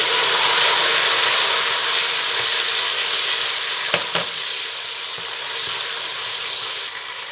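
Onions and tomatoes sizzling loudly in a pan while cooking for mutton yakhni pulao, a dense steady hiss with a couple of brief clinks of stirring, no talking.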